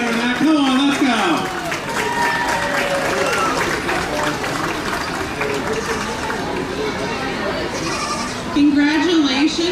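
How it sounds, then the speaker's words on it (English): Crowd clapping at a youth dairy goat show, steady applause running the whole time with goats bleating close by and a voice over the top. "Give them a gigantic round of applause"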